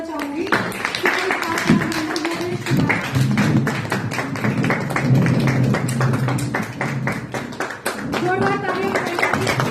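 Steady clapping from an audience at a cooperative society meeting, welcoming a speaker; sustained hand claps mixed with voices and talk over it, continuing throughout.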